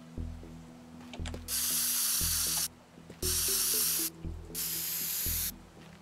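A spray can paints in the Teardown video game, firing several loud bursts of hissing spray about a second long each, with short rumbling pauses between them.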